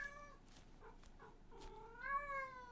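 A cat meows in the game We Harvest Shadows, with several drawn-out, wavering meows that rise and fall, the last one longest and loudest, over a quiet background.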